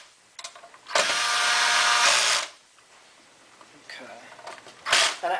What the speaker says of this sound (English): I'm using a cordless drill here